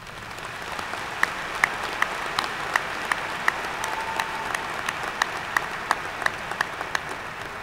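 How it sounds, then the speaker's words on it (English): A university commencement audience applauds for an undergraduate honoree, a sustained wash of clapping from a large crowd with distinct louder claps recurring close by. "let's give Sarah a big round of applause"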